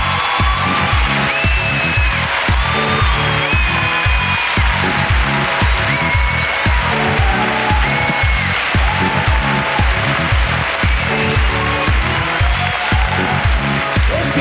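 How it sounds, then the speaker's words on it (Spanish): A studio podcast audience applauds to welcome a guest. The steady, loud clapping runs the full length, mixed with rhythmic background music. "¡Un aplauso para Esti Quesada!"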